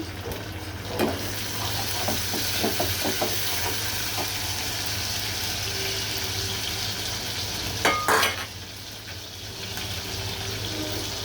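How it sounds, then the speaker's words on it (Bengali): Shrimp fry in oil with a steady hiss throughout, a few light scraping clicks of a utensil and a brief louder clatter near the end. "চিংড়ি মাছগুলো আমি এভাবে তেলে ভেজে নিব"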